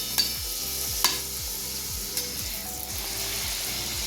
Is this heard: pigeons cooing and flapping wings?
no